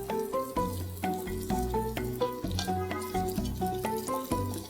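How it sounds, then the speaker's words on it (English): Honey chilli chicken with ginger, garlic, spring onions and capsicum sizzles steadily in a pan, a soft continuous hiss running under prominent background music. "Everything's sizzling in the pan and I love the smell here."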